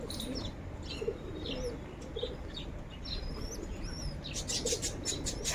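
Pigeons and their chicks at home, with soft cooing, chirps and bursts of wing flapping close by over a steady background hiss, growing busier toward the end.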